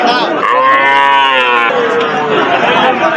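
Young heifer calves of a red local breed moo loudly and close by at a busy village cattle market, one long drawn-out call followed by another, over a steady murmur of chatter from the crowd.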